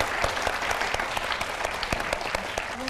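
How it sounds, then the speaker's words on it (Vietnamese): A Vietnamese television studio audience applauds steadily throughout, dense continuous clapping at moderate level with no voices on top. "Cái tiếng vỗ tay như vậy đó là một cái sự ủng hộ"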